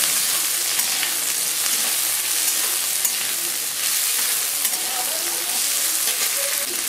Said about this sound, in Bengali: আগে এটা একটু ভেজে নিই। তো আমি এবার দিয়ে দিচ্ছি লং, দারচিনি আর এলাচ গোটা।